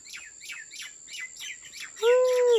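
Small birds chirp in a village field during millet planting, a repeated series of quick, bright downward tweets at a steady rhythm over a faint high insect-like whine, with a louder, longer call near the end.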